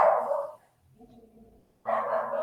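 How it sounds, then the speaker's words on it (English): Dogs bark at someone walking past with their own dog. Two loud bursts come fairly close, with a quieter whimpering stretch between them. "the dogs are barking."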